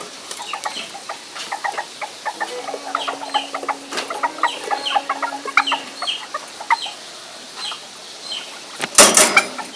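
A brooding Black Australorp hen clucks close by in quick, low, repeated bursts with a brief sustained tone in the middle, then a sharp rustle near the end.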